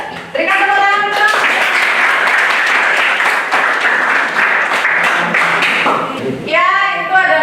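Audience applause after a class presentation, a dense burst of clapping lasting several seconds, with voices speaking at the start and end.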